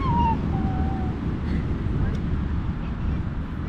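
Sea surf at a crowded beach rolls as a steady low wash, with wind buffeting the microphone throughout and a faint tonal whistle near the start.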